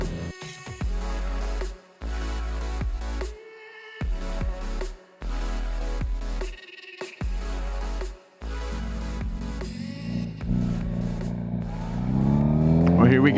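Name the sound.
motorcycle engine while riding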